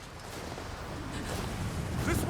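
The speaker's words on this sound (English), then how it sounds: "This wind is crazy." Strong wind gusting over a mountain trail, a steady broad roar buffeting close to the ear and building in intensity toward the end.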